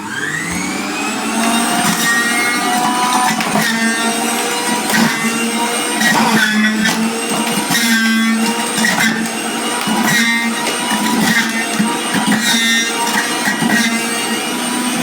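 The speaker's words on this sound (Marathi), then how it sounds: "यामध्ये पूर्ण हे जे लसण, अद्रक आणि निंबू याचा ज्यूस आपण या मिक्सरमध्ये काढत आहोत." A mixer-juicer whirs steadily as it extracts juice from garlic, ginger and lemon. The motor gives a loud, continuous whine with no speech.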